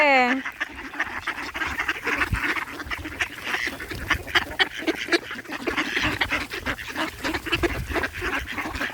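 Ducks quack in a busy, overlapping chorus close by, with people talking over them throughout.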